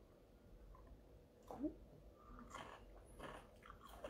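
Someone eats a snack of cheese balls up close, making quiet, wet chewing and biting sounds with a few soft squishy bursts over a faint background hiss.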